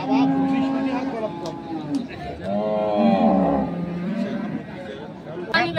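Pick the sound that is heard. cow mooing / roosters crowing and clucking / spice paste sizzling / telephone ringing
cow mooing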